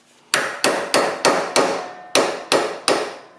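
Eight sharp metallic hammer blows strike a small chisel wedged behind a bearing race on a Mazda MX5 rear hub, evenly paced and close, each ringing briefly before the next.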